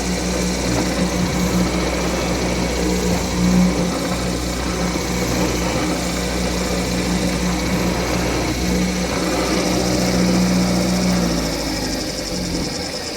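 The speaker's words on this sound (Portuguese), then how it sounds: "Se encontrar alguma resistência, você volta a broca, desloca e fura a resistência." Drill boring into a 2.5-metre cedar door stile, a loud steady motor whir with a constant hum, brief surges as the bit meets resistance, continuous for over ten seconds without talk.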